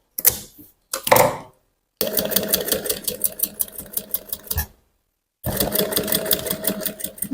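Sewing machine stitching a curved seam on fabric while making a bust cup cage, in several runs of steady fast rhythmic chatter separated by pauses, close and fairly loud.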